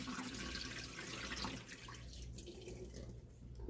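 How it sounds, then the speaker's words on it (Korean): Tap water pours steadily into a container in a home kitchen while bean leaves for kimchi are being prepared, a continuous close splashing rush without pauses. "그리고 물을 좀 받아줍니다."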